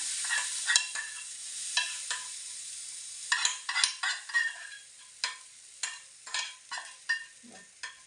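Vegetable-filled besan chilla batter cooks on a hot griddle with ghee, giving a faint, thin sizzle punctuated by intermittent light spatula scrapes and taps.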